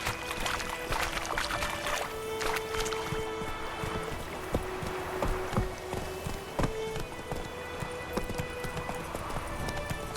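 Horse hooves galloping in The Witcher 3: a steady, rhythmic clip-clop of hoofbeats on the ground, close and continuous, over a wash of ambient outdoor sound.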